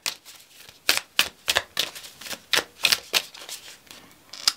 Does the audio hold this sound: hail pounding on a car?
no